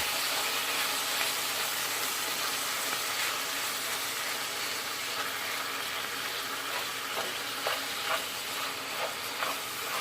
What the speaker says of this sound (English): You brown your meat.